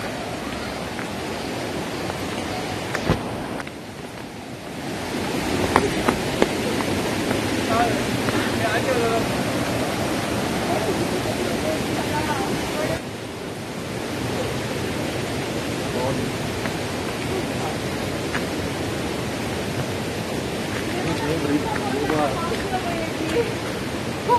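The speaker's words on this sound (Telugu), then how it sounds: "మీరు వాటర్ సౌండ్ కూడా వింటున్నారు కదా" Waterfall water at Talakona rushes in a steady, broad roar close by, continuous throughout, with a voice talking over it.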